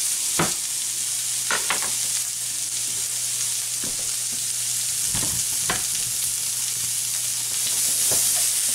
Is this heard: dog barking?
no